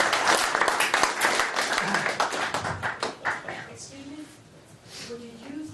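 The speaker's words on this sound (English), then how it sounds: "Give them a round of applause as it goes back to the audience." An audience at an NLP and hypnosis practitioner course claps in a dense burst of applause that fades, with a speaker's voice coming back in as the clapping dies down.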